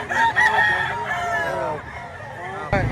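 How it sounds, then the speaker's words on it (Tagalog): A rooster crows loudly and close at a crowded chicken market in Lipa, Batangas, its drawn-out call rising and falling, with other fowl and a busy crowd murmuring in the background. "Ayan palibasa napakaraming manok."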